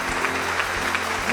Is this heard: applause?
yes